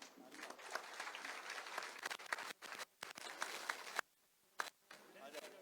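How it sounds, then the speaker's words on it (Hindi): An audience at a public event in Bijapur applauds as honourees are called up, bursts of clapping that start and stop unevenly with brief gaps, mixed with an announcer's voice. "तालियां।"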